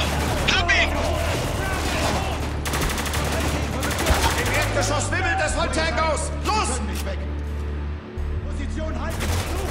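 Gunfire in the war shooter Spec Ops: The Line, with repeated bursts of automatic fire and scattered single shots over a low rumble as people talk throughout.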